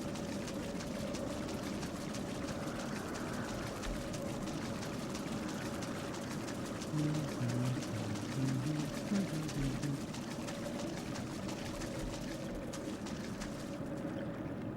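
A Final Fantasy 14 character wades into water in the Heavensward area, a soft continuous sloshing and splashing over a steady ambient drone that runs throughout at moderate level.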